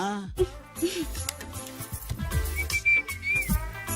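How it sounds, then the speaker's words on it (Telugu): A short, high whistle rises and wavers briefly in an exam hall amid other noises and movement, fairly close. "అలా విజిల్ కూడా వేయకూడదు తల్లి"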